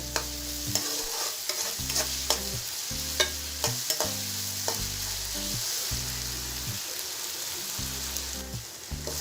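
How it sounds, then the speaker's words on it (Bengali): Ginger garlic paste fries in a pan and is stirred repeatedly, giving a constant sizzle with rhythmic scraping strokes and clinks. A low, steady, blocky hum pulses underneath. "এরপর আমি এই আদা রসুনের পেস্টটাকে হালকা একটু ভেজে নিচ্ছি"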